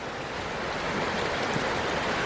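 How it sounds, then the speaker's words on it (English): A creek flows right beside a campsite with a picnic table, a steady close rushing and babbling of water filling the scene without any talk. "It's gonna be a nice way to sleep to the sound of the creek."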